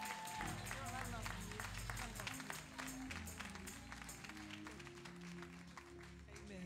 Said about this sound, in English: Can you clap your hands and celebrate our first?